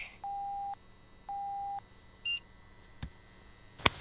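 A phone sounds a message notification: two identical steady tones a second apart, then a brief high chirp, followed by a soft click and a sharp tap, all fairly quiet.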